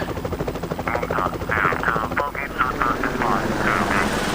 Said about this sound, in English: Now there's a Stallion helicopter over here.